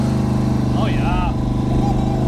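Twin turbo Ford Mustang engine droning loud and close, with whistling, sweeping turbo whine rising and falling over the steady low rumble.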